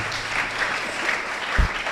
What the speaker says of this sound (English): please let's give all our contestants a big round of applause